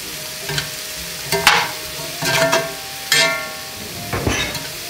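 Garlic frying in bacon fat crackles and sizzles in a pan, broken by several loud stirring scrapes and clanks from a utensil, close up with no voices.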